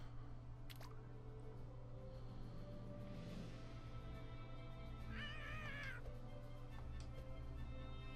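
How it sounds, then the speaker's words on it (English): A cat in South Park: The Fractured but Whole gives a single wavering meow midway through, moderately loud over a steady hum of game background noise. "Come here, kitty."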